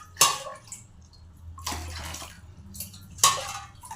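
Water poured over idli rava in a kitchen bowl to soak it, heard as three separate splashing pours with short quiet gaps between, close by and with no talking.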